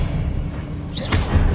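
A short Expelliarmus disarming spell cast in Hogwarts Legacy: a brief whooshing magical burst with a soft thud, rising over steady low game ambience, no voices.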